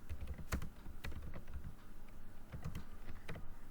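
Computer keyboard keys tapped in short irregular bursts while a data entry goes into an Excel sheet, soft and close with brief pauses between clusters of keystrokes.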